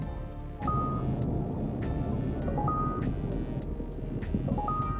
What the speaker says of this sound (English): when I unbuckle myself, there is an audible beep